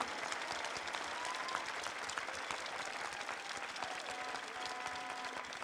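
Steady, dense applause from a large audience at the pastry World Cup in honor of its founder, sounding somewhat distant and even throughout, with a faint background voice.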